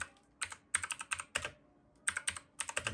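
Typing on a computer keyboard: clusters of quick, crisp keystroke clicks in an uneven rhythm with short pauses between bursts, close and fairly quiet, with no voices.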